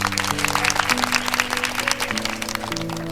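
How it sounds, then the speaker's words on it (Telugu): Brisk applause rises under a sustained droning tone, the claps crowding together in a quick, even patter that stays fairly loud throughout. "క్లాప్స్ అండి"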